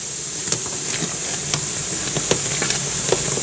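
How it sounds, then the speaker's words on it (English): Homemade jelly mixture at a full rolling boil gives a soft continuous hiss scattered with small bubbling pops, close and moderate in level, without speech. "Now that this has come to a complete boil, we let it boil for a minute."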